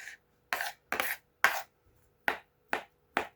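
Seven crisp knife chops through bell pepper on a board, evenly spaced about half a second apart, close and clear with silence between strokes.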